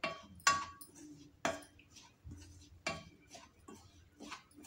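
Laddu mixture is stirred in a pan off the heat, a spoon scraping and clinking against the metal in irregular soft knocks and scrapes, quiet and close, with no talking.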